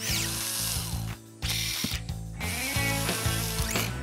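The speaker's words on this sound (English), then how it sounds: "I just need to tighten this bolt." A cartoon ratchet tightens a bolt with a loud, rapid clicking that runs in quick bursts, broken by a short pause, over an animated scene with no talk.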